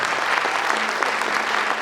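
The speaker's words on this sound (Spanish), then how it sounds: "fuerte el aplauso para Nelson" An audience at a concert applauds Nelson, a loud, dense burst of clapping that runs steadily through the moment with no voices on top.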